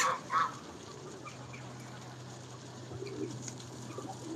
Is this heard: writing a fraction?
no